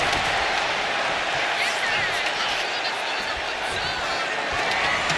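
A roaring arena crowd in the WWE 2K25 wrestling video game, a dense, continuous wall of cheering and noise that holds loud and steady throughout.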